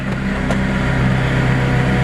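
A 2016 McLaren 675LT Spider engine idles with its top down, a steady low rumble throughout with faint higher whine and a couple of brief ticks.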